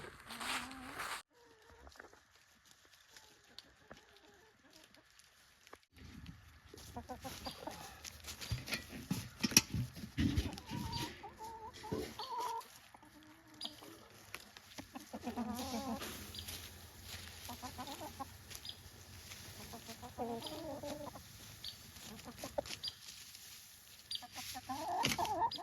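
Chickens on a northern Minnesota homestead cluck softly and intermittently through a long stretch, some calls nearer and others farther off, with faint background rustling.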